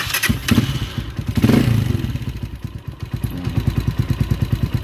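A Maton 150cc motorcycle engine starts up and runs close by, settling into a rapid, even idle of evenly spaced thumping pulses after a few louder revs.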